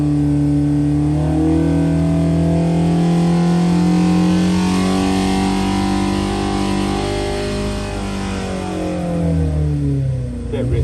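A Carter 1228cc engine revs on a dyno toward about 6,000 rpm, a loud, steady climbing drone that holds and rises for several seconds, close and continuous.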